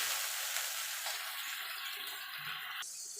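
A spice masala with tomato and a little water sizzles and fries in a pan while being cooked down for a Bengali jackfruit curry: a close, bright, continuous hiss with small crackles and one abrupt drop near the end.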